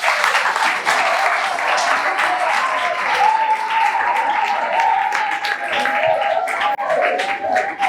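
Sustained applause from a lecture audience at a talk on juvenile delinquency, dense steady clapping filling the room for several seconds, with a tonal voice or murmur rising faintly beneath it midway.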